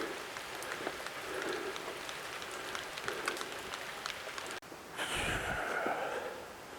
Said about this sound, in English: It's a steady rain.